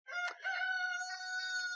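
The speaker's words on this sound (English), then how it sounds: "Apologies for the rooster who wants to add in his 2 cents." A rooster crows nearby in one long, clear call that starts with a rough burst and then holds a sustained ringing tone, with no voices alongside.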